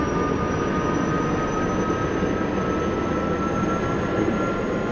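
Helicopter engine in the DCS flight simulator spools up, a steady whining turbine drone with a sustained high tone and a dense low rumble, constant and loud without any talk.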